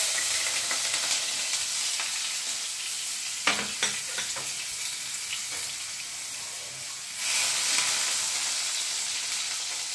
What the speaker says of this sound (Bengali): তেলটা অলরেডি গরম আছে। এর মধ্যে আমরা প্রথমে দিয়ে দিচ্ছি কেটে রাখা রসুনের কুচি